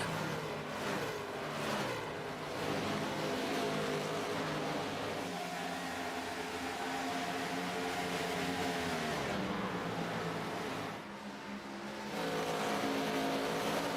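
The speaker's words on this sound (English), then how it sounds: "Short track racing here at the Rock." Race cars lap a short oval track at Rockingham, a steady loud engine roar heard from on board, with pitch rising and falling through gear changes and corners, continuous throughout.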